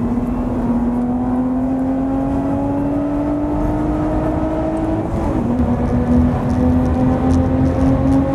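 A Lotus Evora GT430 engine hums steadily from inside the car on a track, its pitch slowly climbing, then dropping briefly with a gear change before settling again.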